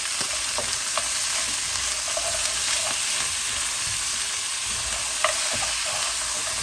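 Lamb shank frying in hot oil with ginger, garlic and chili paste as it is stirred, a steady bright sizzle running throughout with occasional spoon scrapes and clinks, close and alone with no talk.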